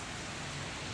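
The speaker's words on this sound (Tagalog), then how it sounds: "Ulan guys, ulan." Steady rain pattering down, a dense broadband hiss with no voices, fairly soft and continuous throughout.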